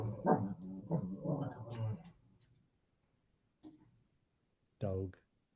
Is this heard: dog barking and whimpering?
yes